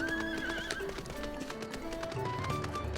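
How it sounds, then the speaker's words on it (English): Hoof clip-clop of an earth elemental horse mount in Final Fantasy XIV, with a neigh and whinny over steady game music, the hoofbeats continuing close and evenly through the moment. "Aha, an earth elemental horse."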